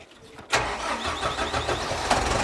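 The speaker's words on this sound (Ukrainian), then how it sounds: "і запускаємо трактор" A tractor engine cranks and fires at about half a second, then settles into a loud, steady mid-pitched idle with a slightly uneven rumble, heard alone at close range.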